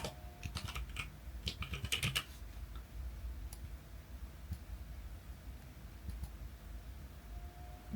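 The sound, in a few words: typing on a computer keyboard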